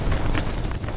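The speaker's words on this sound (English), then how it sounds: "The really strong wind, and it's like 20 to 6 now." Strong gusting wind buffeting a Vango F10 Radon UL1 tent at a wild camping spot, a loud, constant roaring rumble pressing on the microphone throughout the brief moment.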